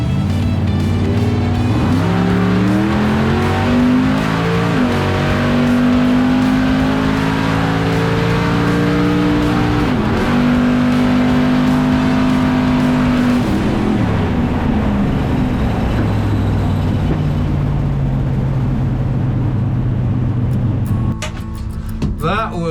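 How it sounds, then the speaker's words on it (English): Race car engine screaming at full throttle in third gear with a stuck throttle, loud and continuous with rising and falling pitch sweeps, tire noise, and a sudden drop near the end. "the throttle was flat to the floor in third gear and I'm lifted and it's still going"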